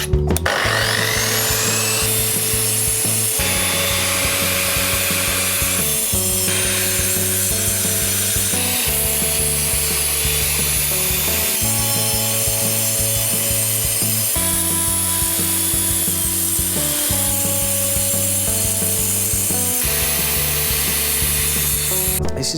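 A power saw cuts steadily through wood with water running, giving a loud, continuous grinding rasp. It repeats in cycles of a few seconds each over more than twenty seconds, with no voice heard.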